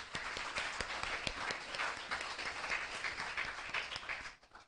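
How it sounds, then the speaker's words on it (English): Audience applause at an academic lecture, a fairly faint but steady crowd clapping with a few sharper individual claps standing out, fading away at the end. "We should celebrate it with a big applause now."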